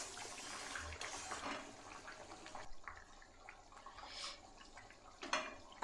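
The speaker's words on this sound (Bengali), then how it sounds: "এবার 1 মিনিট আমি ভালো করে ফুটিয়ে নেব" Bengali khoira river fish curry with papaya and potato bubbling in a pot, a steady watery simmer with soft bursts and sizzle, moderately quiet and continuous with no talking.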